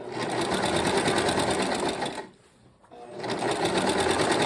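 A sewing machine stitches a seam in a fast, steady whirring run that stops briefly midway, then starts again at full speed.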